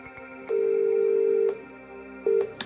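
On an outgoing phone call, a ringback tone sounds as one long, steady electronic tone of about a second. After a gap, a second tone starts and is quickly cut off, with faint line noise between them.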